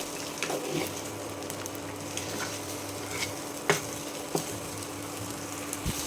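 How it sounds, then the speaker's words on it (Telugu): Beaten eggs being scrambled to a dry crumble in a hot pan, a steady soft sizzle with scattered clicks of a spatula scraping the pan, close and continuous with no talking. "ఈ గుడ్డుని బాగా పొడిలాగా చేసుకోవాలి"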